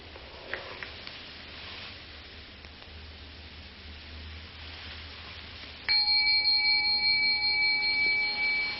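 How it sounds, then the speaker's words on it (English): A single bell strikes partway through and its clear ringing tone hangs and slowly decays, heard alone above a faint background hiss. "the bell came out of nothing, floated off, and then stopped being a sonic echo"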